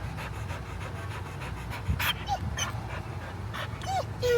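Rick, a puppy, pants with soft, faint whimpers close by over a low background rumble, with a couple of brief higher squeaks.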